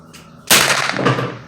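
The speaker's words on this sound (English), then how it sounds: "let's take 3 more shots" A single sharp, loud gunshot from a S&W M&P 15-22 rifle at an outdoor shooting range. It cracks abruptly, then its echo decays over the following second.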